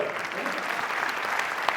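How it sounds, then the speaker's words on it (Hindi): Audience applause at a spiritual discourse by Jain monks, dense continuous clapping from a crowd, fairly loud and even throughout, with no speech over it. "ताली बजाओ।"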